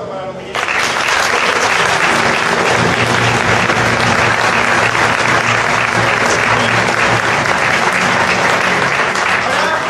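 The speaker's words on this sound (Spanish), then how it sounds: "Un aplauso para los que llegan." Loud, dense applause breaks out from a crowd at a 2017 Renaissance historical reenactment in Villena as participants arrive, sustained and even after a brief quieter lead-in, with voices mixed into the clapping.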